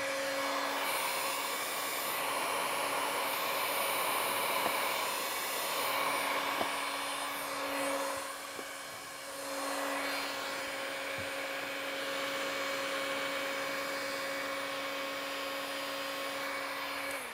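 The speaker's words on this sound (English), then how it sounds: "Let me get my heat gun and let's get that one real quick." A heat gun blows on window tint film on the windshield of a Tesla Model S, making a steady, moderately quiet airy whoosh with a constant hum that dips briefly midway and otherwise runs unbroken.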